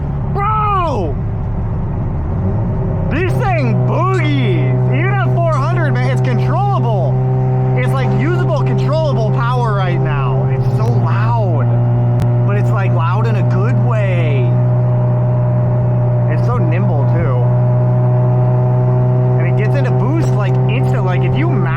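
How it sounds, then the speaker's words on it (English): A Mazda FD RX-7 rotary engine runs loud and close on a dyno, holding a steady drone with the revs surging, while excited voices talk over it. "like if you mash the throttle, it's in boost"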